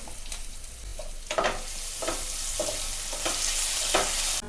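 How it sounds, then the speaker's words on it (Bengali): Onion, garlic and ginger paste fry in hot oil in a pan, with a steady close sizzle broken by several sharp scraping stirs of a spatula. "পেঁয়াজটা ভাজা হয়ে গেছে"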